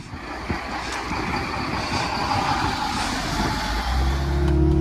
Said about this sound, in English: there's the new rig coming down the road